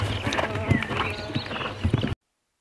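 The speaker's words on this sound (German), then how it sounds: "versammelter Galopp." Horse hooves in a collected canter at a dressage tournament, a steady rhythmic run of muffled thuds on arena footing, fairly close, with faint snorting breaths and no talk over it.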